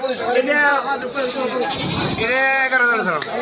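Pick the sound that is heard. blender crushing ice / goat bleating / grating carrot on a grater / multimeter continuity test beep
goat bleating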